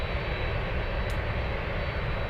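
A cargo aircraft departing Anchorage airport, a steady, loud low engine roar that fills the whole moment without changing, close and continuous with no voices.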